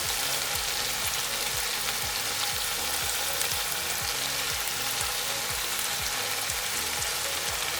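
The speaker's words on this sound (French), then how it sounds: "je vais mettre dans ma poêle, enfin dans ma casserole pour le coup. Donc maintenant je pose mon poulet" Chicken pieces set into a hot saucepan of sauce for Moroccan chicken with olives, sizzling and frying steadily and loudly throughout, with soft stirring clatter and no talk.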